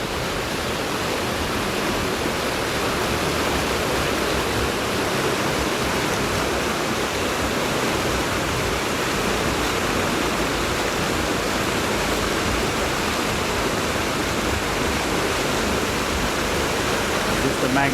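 Waterfall and swift river water at Triple Falls in Western North Carolina roar as a dense, continuous rushing wash, loud and close, unchanging throughout.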